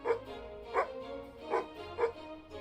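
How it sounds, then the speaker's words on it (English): A tomcat in a game set in Transylvania gives short, bark-like calls, five evenly spaced clipped yelps at close range with no voices between them. "It's a tomcat, but almost sounds like a dog when it vocalizes."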